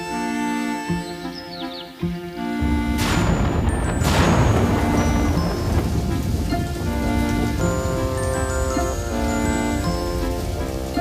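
Rain in a 1990s French animated cartoon, a steady hiss of falling drops that swells after a couple of seconds, with bright impacts early on and musical tones running underneath.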